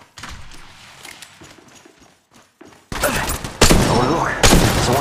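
Gunfire from the Apex Legends Mobile video game: quiet distant shots and thumps at first, then loud close bursts of rapid fire in the second half, with a brief callout voice.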